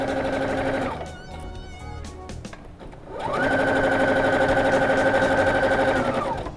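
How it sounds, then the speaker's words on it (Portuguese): A sewing machine stitches elastic onto fabric, running in two steady, loud bursts of fast, even whirring, separated by a pause of about two seconds of quieter handling. No one speaks. "E aí eu venho costurando."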